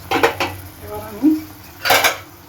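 A metal lid set down on a pan of simmering egg and capsicum curry gives a few sharp clinks, two close together, then another pair about a second and a half later, with no talk.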